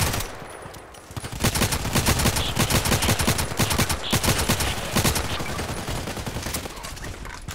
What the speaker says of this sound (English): 3 or 4 shots with this silencer